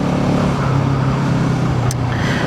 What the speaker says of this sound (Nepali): यो बाइकको ठुलो साउन्ड रहेछ यार